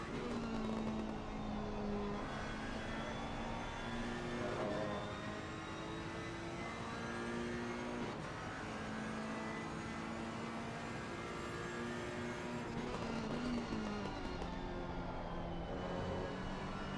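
Ferrari 488 race car engine heard from the cockpit in a racing game at Watkins Glen, a steady loud drone with shifting harmonic pitch as the car accelerates and lifts, continuous throughout with no talk.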